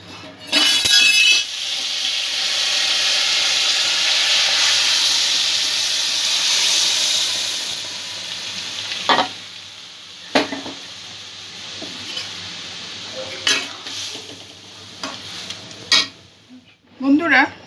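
Boiled dal poured into a hot pan sets off a loud hissing, steaming sizzle that fades over several seconds, then gives way to intermittent clinks and scrapes of a spoon stirring against the metal pan.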